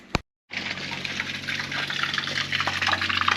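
Water gushing and draining out of RV plumbing lines while winterizing, a steady close rushing flow that starts abruptly after a brief click and silence and keeps running strongly.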